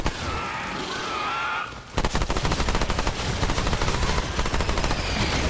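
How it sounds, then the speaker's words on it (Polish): Rapid, relentless weapon fire in the co-op shooter Remnant 2, a dense stream of punchy bursts that suddenly kicks in and hammers on without pause, loud and close. "rakietami napierdalają"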